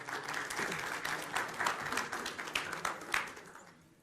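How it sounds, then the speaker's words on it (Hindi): Studio audience applause on a Hindi TV debate show welcoming two new participants, a steady dense burst of clapping lasting about four seconds before tapering off at the end. "तालियों के साथ स्वागत कीजिए अगले 2 पार्टिसिपेंट्स का"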